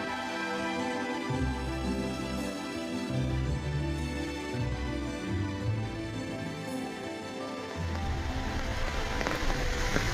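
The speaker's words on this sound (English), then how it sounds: "It's raining pretty bad." Heavy rain pouring steadily on surfaces during a daytime tour stop in China, a dense continuous wash of drops with no talking.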